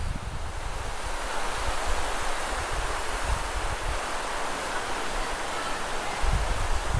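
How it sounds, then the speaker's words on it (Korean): Fast-flowing sea current rushes through the Uldolmok strait in a dense, continuous roar, with low wind buffeting against the microphone throughout. "와, 바닷물이 이렇게 무섭게 흐르네요."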